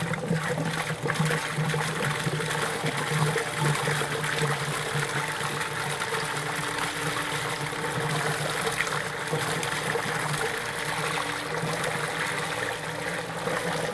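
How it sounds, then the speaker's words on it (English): Steady rushing and trickling of water poured into a flush cart while flushing a Carrier/Bryant variable-speed water flow control system, continuous and fairly loud with a pump-like hum beneath. "Adding water again to keep that water level as best we can just above that return tee"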